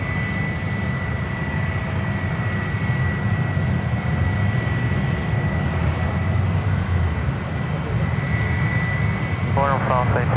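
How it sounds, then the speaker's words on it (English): Corporate jets landing on runway 28 right at San Francisco International Airport, a steady broad jet engine roar holding throughout at moderate distance, with a faint tonal whine and a brief chirping burst near the end. "Corporate jets on the 28 right."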